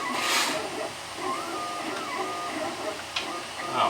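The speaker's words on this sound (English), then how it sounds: "That musical sound you hear is the sound of my 3D printer." A 3D printer runs steadily, its motors whirring with a soft, tonal hum that shifts in pitch, under a low mechanical hiss with a faint click.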